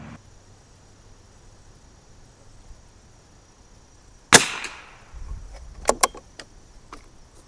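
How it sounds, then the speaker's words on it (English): A 1972 Anschutz Model 54 Match single-shot rifle fires one sharp, loud crack of Eley 10X rimfire ammunition on a windy range, followed by several lighter metallic clicks of handling. "now we're going to start shooting Eley 10X"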